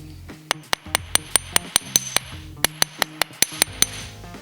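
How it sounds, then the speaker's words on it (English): Wire earring being hammered on a jewellery bench, a series of about twenty sharp metallic taps in uneven bursts, close and clear with brief ringing after each strike. "I'm going to place it on my bench and I'm going to hammer it and adjust it one more time."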